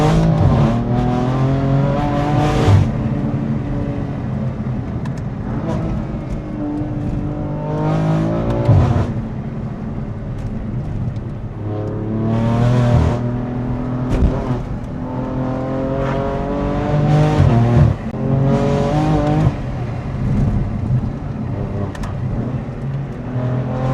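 A BMW F82 M4 driven hard, its engine repeatedly revving up and dropping through gears in loud, sustained pulls heard from inside the car, with no talk over it.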